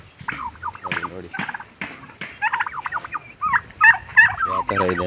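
Turkeys gobble repeatedly on an Indian farmhouse, the bursts close and loud, with bubbling calls in quick clusters and a few shriller cries.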